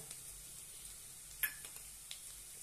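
Curry ingredients for a black-eyed pea, eggplant and potato gravy sauté in a pan with a faint, steady sizzle and stirring, plus a single sharp utensil click partway through.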